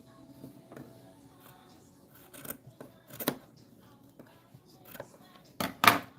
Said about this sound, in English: You're just gonna keep cutting till you got them all cut out.